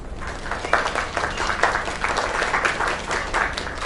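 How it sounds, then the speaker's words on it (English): An audience breaks into steady, enthusiastic applause, many hands clapping at once in a continuous rippling wash. "Another round of applause."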